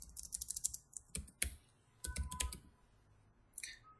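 Typing on a computer keyboard sounds as quick clusters of crisp, close key clicks, separated by short pauses, with no voices present.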